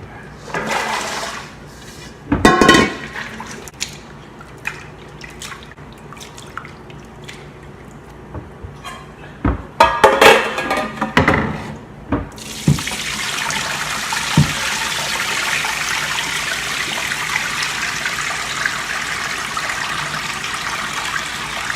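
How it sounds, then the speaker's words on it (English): Cold tap water fills a pot for rinsing green beans, a steady hissing rush that starts partway through and keeps going, after scattered clanks and handling knocks and some quiet talk. "So I fill the pot about halfway with cold water"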